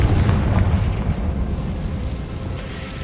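A loud, close explosion from the Confringo blasting spell in Hogwarts Legacy, a heavy booming burst with low rumble that slowly decays over a few seconds, with no voices.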